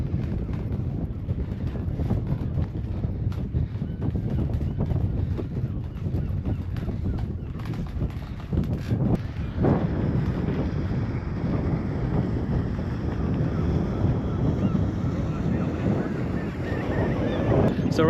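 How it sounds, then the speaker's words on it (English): Strong wind on the Belgian coast at Nieuwpoort buffets the microphone continuously, a loud low rumble with gusts and a faint wash of waves underneath, no voices. "There's a lot of wind today"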